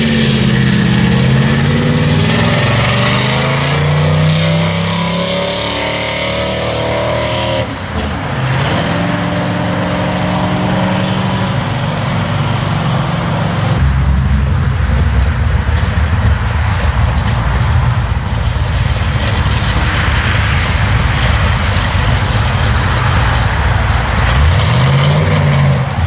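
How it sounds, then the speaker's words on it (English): A 1967 Pontiac Firebird engine with a 200-4R transmission revs at high RPM, loud and close, rising and falling in pitch between steady stretches, with no talking. "Now I'm actually just a hair too tight. Really high RPM."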